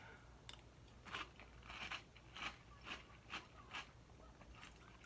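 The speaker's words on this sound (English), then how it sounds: "You can probably hear that it's got a very satisfying crunch." Crunching of Cheetah Chomps, a brittle, glassy Cheerios-like cereal, heard as about eight crisp bites spaced roughly half a second apart, close and fairly quiet over low background hum.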